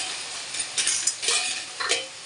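A spoon scrapes and stirs a brinjal and tomato curry sizzling in a pan, soft clinks and scraping over a steady frying hiss, close and alone.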